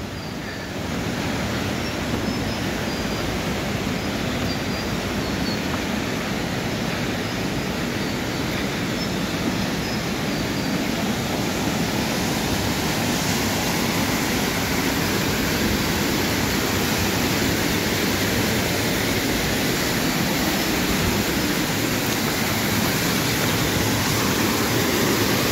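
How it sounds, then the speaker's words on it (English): Jarogo waterfall in Swat roars as a steady, loud broadband rush of falling water, constant and close throughout with no talk. "The waterfall."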